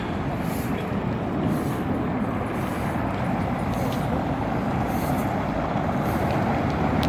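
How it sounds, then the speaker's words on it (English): Busy car traffic circling a traffic circle on Reforma in Mexico City, with a dense, continuous roar of engines and tires, close and loud, with faint brake hisses and no voices. "once this traffic circle and the cars from here die down, I can make a run across"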